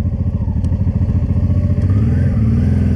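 A Honda motorcycle ridden through France, its engine a loud, close, steady throbbing drone with a slight rise in pitch near the end and no talk over it.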